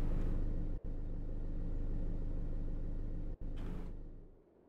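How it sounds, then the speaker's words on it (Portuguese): In the video game Tempus Triad a car engine drones low and steady, briefly cutting out twice before fading away at the end, with no voices. "Ouvindo o som de um motor de carro"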